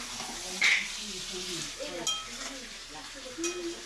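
Meat cooking in a pot gives a soft sizzle with occasional clinks of a utensil against the pot, while voices talk faintly nearby.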